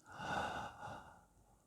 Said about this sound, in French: Inspirez.